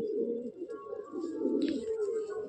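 A flock of Madrasi racing pigeons in a loft keeps up a close, unbroken low cooing that rises and falls in soft pulses, with a light rustle partway through.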